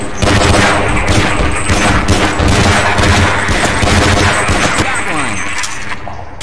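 Gunfire in Half-Life: The Returning, loud dense bursts of rapid automatic shots filling the whole stretch without pause.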